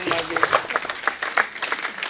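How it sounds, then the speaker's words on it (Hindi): A studio audience on a comedy talk show claps for a guest, a lively burst of applause with audible individual claps, mixed with voices talking over it. "जैकी सर के लिए जोरदार तालियां।"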